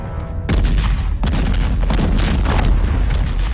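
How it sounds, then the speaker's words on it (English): A ship's guns fire in a loud, sustained barrage of booms and blasts, dense and continuous at close range, with no talk over the gunfire. "Stop that firing!"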